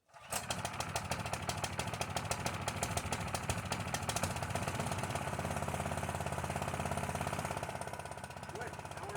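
A Hudson sawmill engine warms up at idle, a steady close mechanical chugging with a dense rapid rhythm that starts abruptly and runs on evenly, alone.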